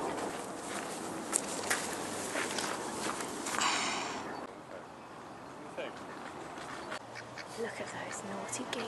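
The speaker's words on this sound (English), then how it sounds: "Look at those naughty geese" Geese or ducks in a park in Lisbon, Portugal, give a few short quacking calls at intervals amid outdoor noise and footsteps, moderately close, while a person talks.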